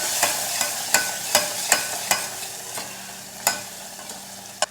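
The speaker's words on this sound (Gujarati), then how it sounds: "ફરી આપણે બધું સારી રીતે મિક્સ કરી લઈએ" A spoon scrapes and taps around a pan in a steady series of short, crisp strokes, stirring in garam masala, with a faint sizzle underneath and no voices.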